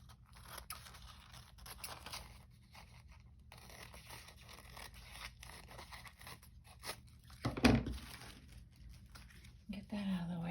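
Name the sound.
cutting paper journaling cards with scissors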